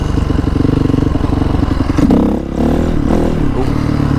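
A motorcycle accelerating hard in second gear for a wheelie, its loud, close engine note rising steadily, then briefly dipping and surging again.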